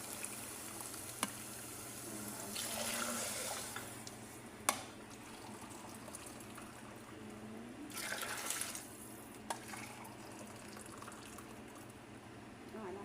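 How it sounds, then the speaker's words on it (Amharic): Water is poured from a drinking glass into a cooking pot of mahshi on the stove, making two clear splashing pours a few seconds apart over a faint kitchen hiss. "3 ብርጭቆ ውሃ ጨምርበታለሁ።"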